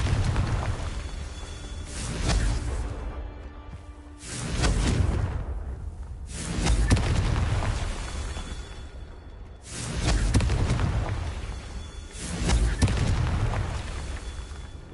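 Repeated booming Confringo blasting spell explosions in Hogwarts Legacy, about four or five swelling bursts at a steady pace, each with a whooshing rise and rumbling decay, loud and close.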